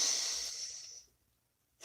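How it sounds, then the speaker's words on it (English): A single long, deep breath drawn in and let out, a close airy hiss that fades into silence before another breath starts at the end; no talking. "Take a nice deep breath."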